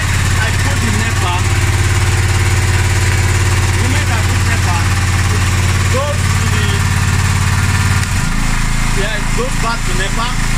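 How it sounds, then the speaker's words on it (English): A generator runs under load after an automatic changeover switch transfers power to it, a steady loud engine drone with low hum throughout, shifting slightly near the end, while a person talks over it. "So the generator is carrying the load now."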